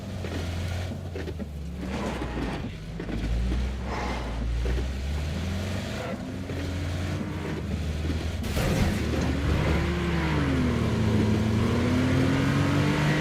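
A Porsche engine revs and accelerates in PUBG, with a rising and falling mid-pitched drone that swells steadily louder and closer over a rumbling backdrop, alongside a few sharp impact bursts.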